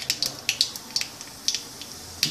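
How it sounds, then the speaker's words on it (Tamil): Mustard seeds and urad dal sizzle in hot oil while tempering spices for a cauliflower pepper fry, a faint steady hiss broken by sharp, scattered pops and crackles. "கடுகு வெடிச்செடுத்து, உளுத்தம்பருப்பு,"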